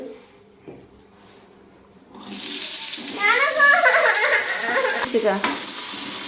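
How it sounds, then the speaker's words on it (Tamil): Samosa filling sizzles in a hot pan as it is sautéed and stirred, starting after a quiet moment and then holding a loud, crackling hiss with scraping from the stirring, under people talking. "மெதுவாக வதக்குங்க."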